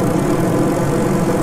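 Steady engine drone from a craft at full throttle in Kerbal Space Program, a continuous low rumble with no breaks, loud and close throughout.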